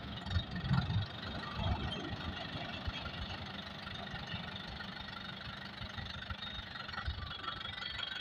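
A YTO EMF 604 4x4 60 HP tractor engine idles at low throttle in four-wheel drive, a steady low rumbling chug throughout with a slightly rougher start, no voices.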